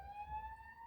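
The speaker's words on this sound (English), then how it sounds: "There's obviously an ambulance going by." An ambulance siren passing by outside: a steady, high wailing tone, faint and distant, over a low background rumble.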